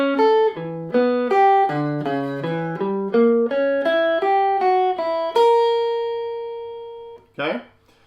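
Slow alternate-picked single notes on guitar play the last four bars of a Bach piece. A quick run of plucked notes with many string skips ends on a long ringing note, followed by a brief scrape at the end.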